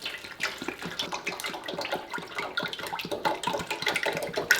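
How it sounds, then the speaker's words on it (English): Frying oil glugs and splashes as it is poured into a deep fryer, a continuous close, bubbling liquid pour that holds steady throughout with no talking. "I have our fry oil here."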